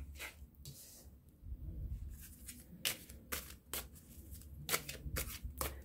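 Tarot cards shuffled for a card reading, with several sharp riffling bursts and softer sliding shuffles between them, close and fairly quiet.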